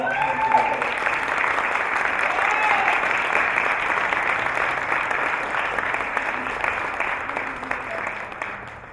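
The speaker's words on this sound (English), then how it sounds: "Can we please give them a warm round of applause?" A conference plenary audience gives panelists a warm, sustained round of applause, dense clapping that holds steady and slowly tapers over several seconds.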